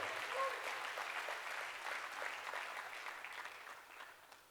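Audience applause at a management conclave in a large hall, a steady wash of many hands clapping that fades gradually over several seconds, with no talk over it.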